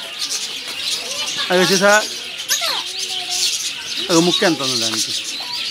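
Lovebirds chirp at Nehru Zoological Park in Hyderabad, bursts of bright twittering calls over a busy outdoor background while people talk nearby.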